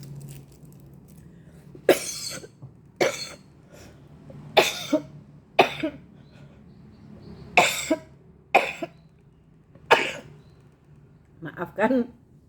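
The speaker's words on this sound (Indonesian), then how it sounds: "Maafkan daku yang kadang-kadang masih batuknya keluar." A woman coughs in repeated single bursts spread every second or two, close and fairly loud against a quiet room with a low hum.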